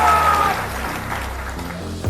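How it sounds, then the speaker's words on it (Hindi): An audience at a Jan Suraaj political rally applauding loudly, a dense sustained wash of clapping from a crowd, fairly close and even, with a voice heard faintly underneath. "आप देखिए लोग कितना जोर से ताली बजा रहा है, जोर से बजाइए एक बार फिर से"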